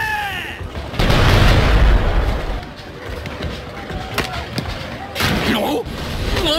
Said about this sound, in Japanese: 今すぐ大砲を用意せよ。